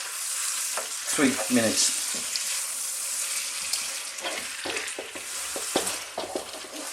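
Tomatoes sizzle steadily in a pan over medium heat for a Jamaican spicy West Indian coconut chicken, with occasional spoon scrapes and light clatter over the constant fry.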